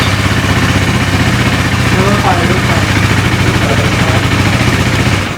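A 2017 KTM Duke 390 motorcycle with a side-mounted exhaust idles close by, a steady low throbbing engine note with rapid regular pulses, loud and continuous throughout.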